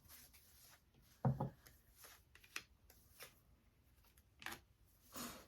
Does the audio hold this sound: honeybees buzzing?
no